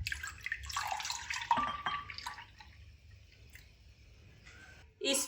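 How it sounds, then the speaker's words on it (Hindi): A cup of milk poured into a pan while making sweet vermicelli, a soft liquid splashing and trickling that fades away, with a brief louder sound at the end. "अब यहाँ पे 1 कप मैंने दूध लिया।"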